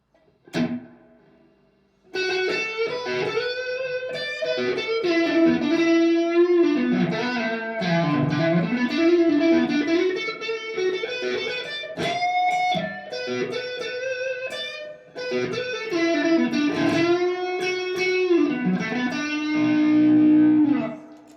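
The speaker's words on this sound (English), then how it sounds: "let's use a straight spring reverb." A clean electric guitar melody drenched in spring reverb, notes sustaining and ringing with a wobbly tail, steady and fairly loud.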